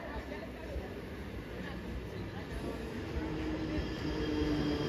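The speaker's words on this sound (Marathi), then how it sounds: "local arrived on platform number 1 is slow local for Karjat" A slow Mumbai local train bound for Karjat rumbles steadily into platform 1 at Neral station, with a continuous rolling roar that grows slightly louder toward the end and faint background chatter.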